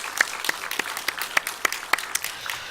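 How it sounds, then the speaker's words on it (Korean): Scattered applause from a church congregation during a Sunday morning service, a modest round of claps with a few sharp individual hits over a light crowd murmur. "우리 박수로 환영하겠습니다"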